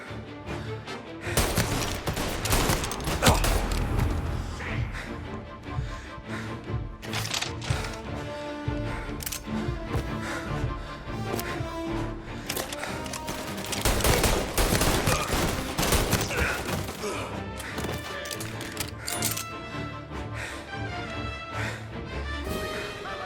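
Gunfire fills a Mafia: Definitive Edition shootout: dense, continuous volleys of shots and bursts crackle without letup, loud and chaotic, with scattered impacts and crashes mixed in.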